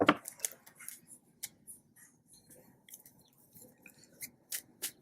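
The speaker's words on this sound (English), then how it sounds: "So you just see me kind of just shuffling a little bit more to catch those" Soft, irregular riffling and flicking of cards being shuffled close up, a quiet series of papery snaps with small pauses between.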